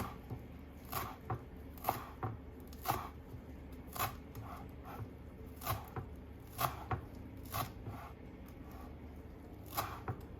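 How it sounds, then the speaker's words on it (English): A knife chops fresh cilantro on a cutting board for a Thai coconut soup garnish, with crisp, fairly regular close-up strokes repeating about once or twice a second. "I don't need to teach you how to chop cilantro, I don't think, but since I'm here doing it, you can watch"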